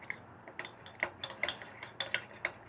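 A spoon stirs cornstarch into half a cup of milk in a cup, giving a quick series of light, bright clinks against the side, close and fairly quiet, with no talk.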